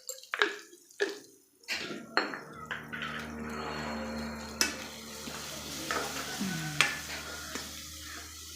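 Spices sizzle in a pan with curry leaves and turmeric as a spoon stirs and scrapes against the metal, giving sharp clinks and intermittent scraping over a steady frying hiss, close and moderately quiet.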